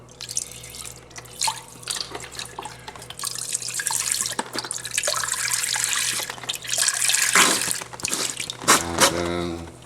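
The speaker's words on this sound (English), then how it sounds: "We are going to heat up a pot and add in some beef broth." Beef broth is poured into a cooking pot on the stove: splashing liquid with drips and clanks that swells and fades over several seconds.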